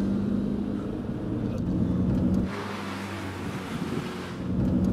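Car being driven hard around a roundabout after a steering-wheel thread repair, giving a steady engine and road rumble mixed with buffeting wind noise that shifts in tone midway.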